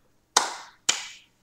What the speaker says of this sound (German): da kann man ruhig mal klatschen